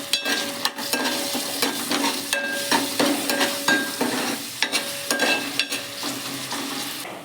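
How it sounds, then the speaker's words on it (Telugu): Onions sizzle in a pan with ginger-garlic paste, turmeric and salt, a steady close frying hiss broken by repeated sharp scrapes and clinks of a spoon stirring against the pan. "కొంచెం పసుపు, రుచికి సరిపడా ఉప్పు వేసి ఒక్కసారి వేపుకోండి."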